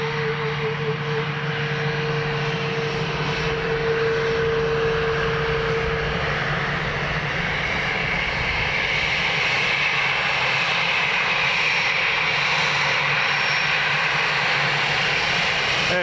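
A Ryanair airliner taxiing at Dublin Airport gives a steady, fairly loud engine whine and rumble that holds throughout, with a low tone fading after the first few seconds.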